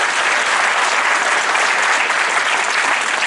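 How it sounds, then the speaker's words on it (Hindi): A ceremony audience claps loudly and continuously, a dense, even wall of applause with no breaks from start to finish. "आज जोरदार ताली बजाकर आप स्वागत करें"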